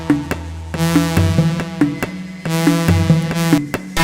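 A brass lead synth preset plays a bright, buzzy melody of repeated staccato notes over sustained tones, rich in harmonics, loud and up front with no voices.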